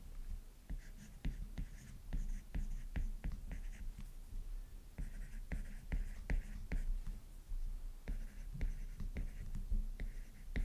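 A pen writing by hand on paper gives a run of close, crisp scratching strokes in irregular bursts, with soft low background noise and occasional faint breathy murmuring.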